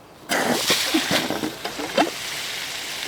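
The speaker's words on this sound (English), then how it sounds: "I'm gonna open up that valve just to flush out the water before I even start sending water down the lines" Water bursts out of an opened irrigation drain valve in a sudden rush, then keeps gushing and splashing unevenly before easing off toward the end.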